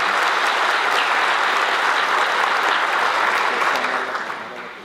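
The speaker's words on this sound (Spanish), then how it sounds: "Damos un cariñoso aplauso a la doctora Ledis" A warm round of applause from an audience at a university discussion event, dense and sustained clapping that fades out toward the end.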